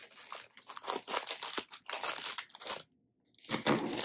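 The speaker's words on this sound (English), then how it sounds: "Now I'm just going to cut this open." Plastic fidget toy packaging being cut open with scissors, a run of close, loud crinkling and crunching bursts, a short silent pause, then more crackling as the wrapping is handled.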